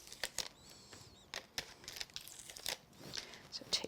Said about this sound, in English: we'll have to nip them apart with our scissors